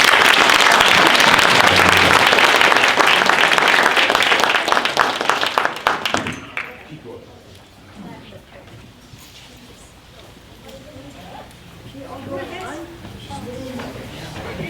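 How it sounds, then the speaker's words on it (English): Loud, full audience applause rolls for about six seconds, then tapers off abruptly, leaving quieter room noise and people talking in the background. "So let's give them a round of applause."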